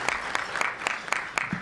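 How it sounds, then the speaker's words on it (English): Audience applause at a Boys & Girls Clubs youth recognition event, heard as a steady wash of many hands clapping for under two seconds, with no voices over it. "So give yourselves a round of applause"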